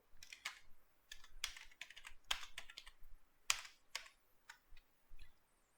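Keys clack on a computer keyboard while code is typed, in irregular bursts of quick, crisp taps with short pauses, close and fairly quiet, with no talking.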